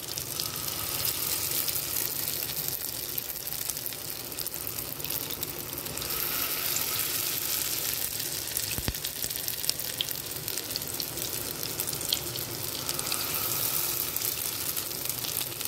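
Pointed gourd (potol) frying in a shallow layer of oil, a steady close sizzle and crackle that runs throughout without pause.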